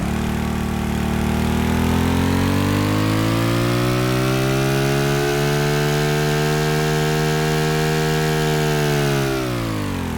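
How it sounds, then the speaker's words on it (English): A small, fast modular engine built in Stormworks runs alone and loud, revving up to a steady buzzing drone for several seconds before winding down near the end. "I like using this for a car engine"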